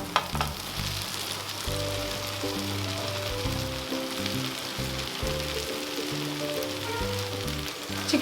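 Shredded chicken sizzles with softened onions and tomatoes in a pan for a Tamil-style chicken fry, making a constant crackling fry with occasional stirring over faint background music.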